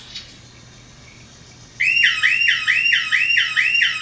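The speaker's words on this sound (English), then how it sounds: "So I'm gonna activate the siren." A loud, piercing electronic siren from a security system base station suddenly starts after a quiet moment, rapidly whooping in a repeating rising pattern, close and continuous.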